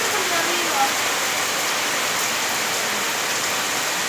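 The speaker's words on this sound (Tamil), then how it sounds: "இது வரைக்கும் இவ்வளோ மழை பெஞ்சதே இல்லை" Heavy rain pours steadily outside a house in Tindivanam, a dense, continuous hiss of downpour close by with faint background voices.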